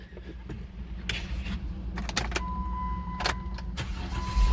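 A car engine cranks with short metallic clicks and jangles before catching and settling into a low running hum, close and fairly quiet.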